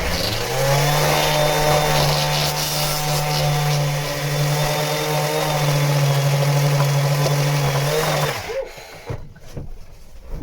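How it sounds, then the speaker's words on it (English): A room heater runs steadily at close range with a constant mechanical hum and a strong low drone for about eight seconds, then cuts off, leaving a quieter, uneven room tone. "I put the heater on when I got here to warm it up in here"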